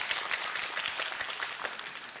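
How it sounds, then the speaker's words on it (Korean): Steady audience applause in a TV quiz show studio, dense and even throughout with no pauses, fairly loud and with no talk over it. "손에 박수 필요합니다"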